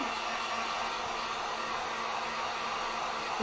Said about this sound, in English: Let me throw the heat gun on because I can see just a little bit of white.